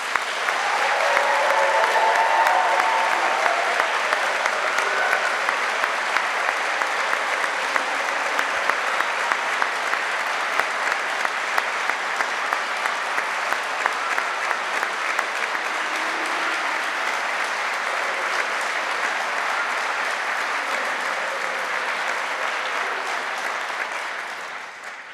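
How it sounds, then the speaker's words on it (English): Sustained audience applause at a university graduation ceremony in a large hall, a dense steady roar of many hands clapping that carries on for over twenty seconds and fades slightly at the end, with no talk. "I'd invite everyone to congratulate you by applause one more time."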